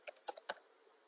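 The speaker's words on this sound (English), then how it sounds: "So immediately you type download" A few quick keystrokes on a computer keyboard, four light clicks in a short uneven burst, close and fairly quiet, then silence.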